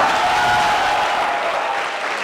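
Steady, full applause from an audience after an Indian classical santoor and tabla performance, a thick continuous wash of clapping that eases slightly as it goes.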